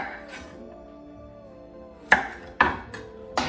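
A knife cuts thin slices at a tight bias angle on a cutting board, three or four crisp close taps spaced about half a second apart, each one sharp and brief after a quiet stretch.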